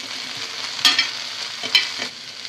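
Okra frying on a flat tawa griddle sizzles steadily while a spatula stirs it, giving two distinct scraping clatters over the constant hiss with no talking.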